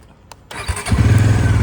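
A Bajaj Pulsar NS motorcycle cranks with a brief starter whir, then fires up close by and settles into a loud, throbbing idle with a steady pulse. There is no talk.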